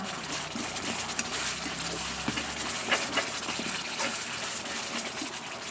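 Fish sauce poured into a dish while making sweet neem chili dip, a steady close liquid gush running continuously.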